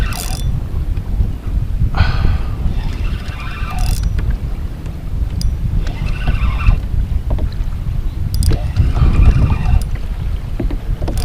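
Strong, gusty wind roars and buffets the microphone at Lake Manchester during a fishing trip, loud and rumbling in uneven surges, with no talking.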